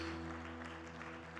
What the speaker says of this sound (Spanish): le da una fuerte ofrenda de palmas al Rey